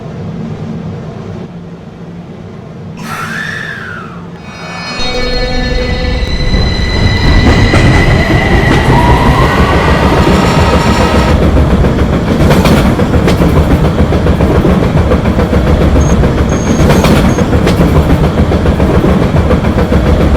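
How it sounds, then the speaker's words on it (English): An R subway train pulls out of a station, its wheels squealing and motors whining as it picks up speed, with steady rumbling rail noise and clatter filling the car continuously. "This is a Ridgeworth Island bound R train via the N line."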